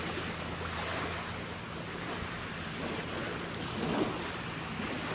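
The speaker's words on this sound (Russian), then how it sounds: "Море прекрасное, мы на пляже." Sea waves wash onto Palanga beach on a fine day, a continuous broad surf roar with gusty wind buffeting the microphone and a slightly stronger surge near the end; no voices.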